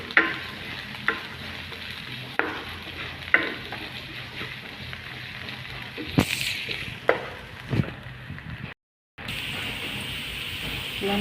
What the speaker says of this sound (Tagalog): Gigisa natin hanggang sa magpula-pula siya.